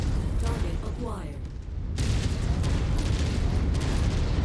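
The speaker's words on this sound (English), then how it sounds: "Jesus, those cannons, I can't." Heavy autocannons on a battlemech firing in MechWarrior 5: Mercenaries, a dense continuous barrage of booming, crackling shots with a brief lull midway, loud and close under a voice.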